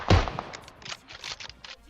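Sniper shots from an AWM rifle in PUBG Mobile: a heavy close report at the start, then a string of fainter, scattered thumps and clicks at irregular spacing, fairly quiet overall.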